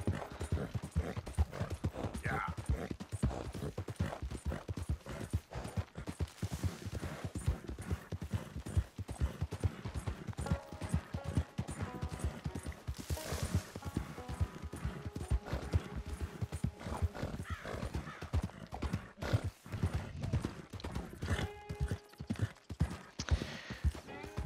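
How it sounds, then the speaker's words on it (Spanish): Rapid hoofbeats of a horse galloping nonstop across terrain in Red Dead Redemption 2, a dense continuous clip-clop drumming with faint creaks of tack and an occasional snort, loud and steady with no talk. "Yo creo que corriendo sin parar con el caballo"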